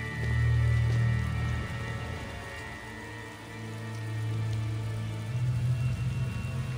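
Steady rain falls in the video game Tales of Xillia, a continuous dense patter with soft swells in intensity under a low musical drone.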